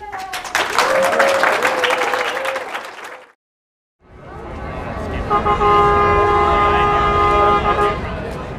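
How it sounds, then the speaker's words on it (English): A loud, excited crowd cheers at the Avalanche victory parade downtown in Denver. The cheering holds steady, horns toot through it, and a sustained tone rises near the end. The sound breaks off briefly in the middle, then comes back. "The crowd's electric. Everybody's just excited."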